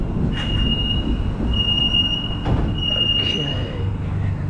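A Shanghai Metro train rolls through a station with a continuous rumble, high steady wheel squeal and intermittent clicks and clatter, loud and close throughout.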